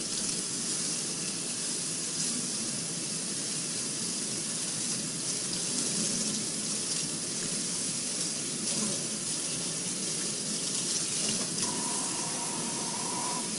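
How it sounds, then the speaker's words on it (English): Tap water runs steadily into a lab sink while arms are rinsed from fingertips to elbows, a continuous close hissing splash with slight shifts as the water strikes skin. "Begin rinsing at the fingertips and move down the arm to the elbows."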